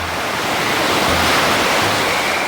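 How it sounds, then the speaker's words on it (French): A steady, roaring wash of ocean surf fills the air, dense and loud with no pauses or voices. "Les vagues rugissaient comme des bêtes en colère."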